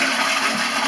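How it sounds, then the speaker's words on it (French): A toilet tank flushes and empties, a close, loud rushing of water that fills the whole brief moment without any voices. "vous videz votre cuve de toilette"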